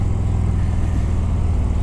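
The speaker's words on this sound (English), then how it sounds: "first kilometers since a long time that I've ridden on a Harley Davidson Street Glide" Steady low engine rumble of a Harley Davidson Street Glide motorcycle on the road, a continuous near drone with no change in pitch and no talking.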